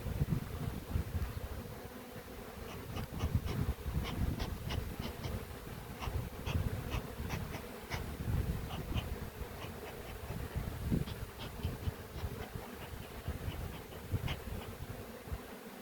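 Honey bees drone steadily at an opened hive during beekeeping work on weak colonies, a dense close buzz with sharp individual insects darting near, constant throughout.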